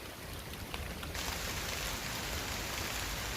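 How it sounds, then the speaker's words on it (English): Steady rain falls at a bushcraft campsite, a dense even hiss of drops on leaves and ground that swells a little after the first second and holds at a constant level, close and unbroken with no voices. "It's good, it's raining right now."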